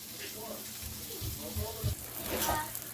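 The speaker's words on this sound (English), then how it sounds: "You can hear it sizzling." Steady frying sizzle of pork chops in a frying pan with a soft crackling hiss, fairly close, continuing through the clip with faint low clatter underneath.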